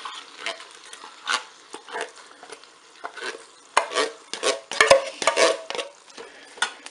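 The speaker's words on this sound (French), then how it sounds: "Maintenant, je vais ajouter dans la cuve de mon Cookéo les lentilles." Lentils are poured and stirred into the metal bowl of a Cookeo multicooker, giving irregular rustling, scraping and light clinking bursts, close and moderately loud.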